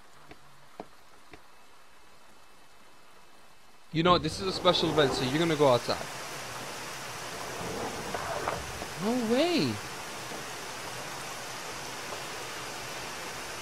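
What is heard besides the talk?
rain in the video game Yume Nikki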